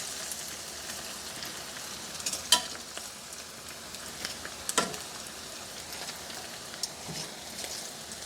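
Saltfish fried Jamaican style crackles softly in hot oil while pieces are lifted out, a faint steady sizzle broken by a few sharp clinks and taps.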